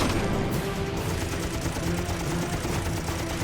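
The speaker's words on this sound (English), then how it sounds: "The Wildcat's 6 50 caliber guns deliver 200 rounds in a 4-second burst." Six .50 caliber machine guns on a Wildcat fighter plane fire a sustained burst during a dogfight, a dense, continuous roar of rapid fire that runs loud and unbroken throughout.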